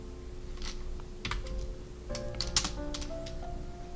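Code is typed on a computer keyboard in steady, close key clicks with uneven rhythm and a few louder taps, over a faint steady hum.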